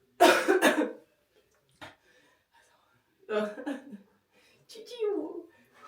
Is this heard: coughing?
yes